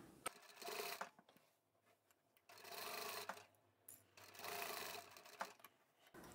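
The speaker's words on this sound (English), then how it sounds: "I'm going to backstitch here and then I'll backstitch at the next mark" A sewing machine backstitches the seam of a drawstring bag, running in two sustained whirring bursts separated by a quieter pause, close and alone with no talk.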